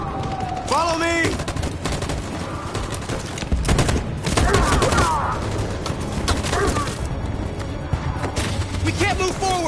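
Sustained machine gun fire and gunfire in the video game Detroit: Become Human, loud and continuous, with bursts of shots, explosions and battle noise, while voices call out over the combat throughout.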